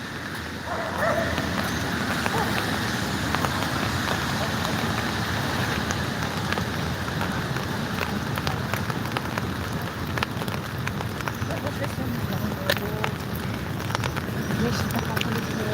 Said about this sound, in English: It's a rainy evening